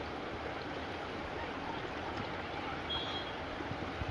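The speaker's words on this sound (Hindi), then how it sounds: "ऐसा लग रहा है जैसे नदी यहीं पे बह रही है सड़कों पे।" Floodwater rushes along a flooded road in Delhi, a faint, steady broadband wash heard from a distance with no voices over it.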